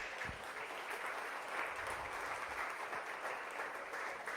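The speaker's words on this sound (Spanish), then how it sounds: "Dale una ofrenda de palmas a Jesús" A church congregation applauds in worship, a dense sustained wash of many hands clapping at steady volume for several seconds, with no speech over it.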